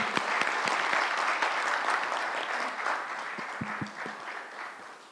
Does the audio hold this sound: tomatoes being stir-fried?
no